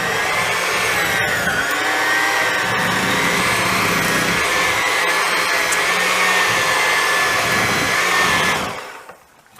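An electric mixer beats butter and peanut butter together for a peanut butter ball dessert, a loud, steady motor whine with a slightly wavering pitch that runs for about nine seconds, then cuts off abruptly.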